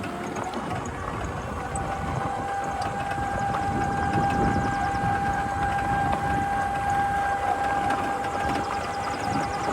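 EGO Power+ T6 electric riding lawn mower running at full throttle, a steady high-pitched electric motor whine with a second tone above it, carried over a constant broad rumble of blades and wheels, close and loud throughout.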